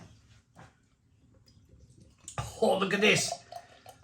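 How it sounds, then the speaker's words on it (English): Jet-black imperial coffee stout pours from a can into a glass, a faint trickle at first and then a louder gurgling splash near the end, while someone speaks briefly over it. "Jet black liquid pouring from the can."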